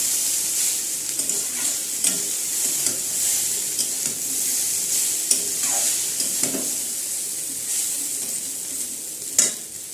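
Chow mein noodles stir-frying in a pan with Maggi masala, a steady close sizzle broken by repeated scraping stirs and occasional clinks of the utensil against the pan.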